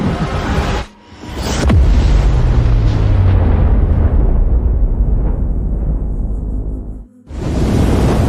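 A movie effect of fire raining down from heaven, heard as a loud, roaring blast that bursts in, then slowly rumbles and fades, with another sudden burst at the end.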